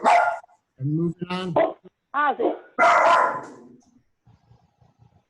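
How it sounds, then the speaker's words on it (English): A dog barks a few times in short bursts amid a man's speech during a council meeting, the barks close and loud, overlapping the talking. "That's my dog."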